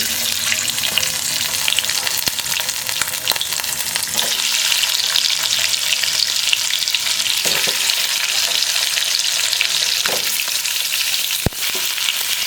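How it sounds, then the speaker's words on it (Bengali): Potatoes frying in hot oil in a pan, a steady, loud, close sizzle that crackles on throughout with occasional stirring clicks and scrapes, no talking. "তেল গরম হয়ে গেছে এর মধ্যে আলু দিয়ে দেবো"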